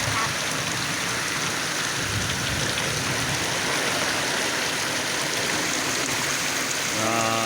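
Flood water flows in a continuous, even rushing wash that stays loud from start to finish. A voice briefly comes in at the very end.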